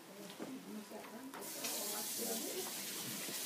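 Tap water runs steadily into a kitchen sink as something is rinsed while cooking steak sandwiches, a broad constant hiss that starts partway through and continues under faint background talk and pan noise.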